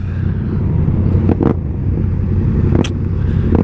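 A motorcycle engine idles with a steady low rumble, broken by a few short, sharp revs, in a group ride with Yamaha R7, MT-07, Honda 650R and Trident 660 machines near Brighton.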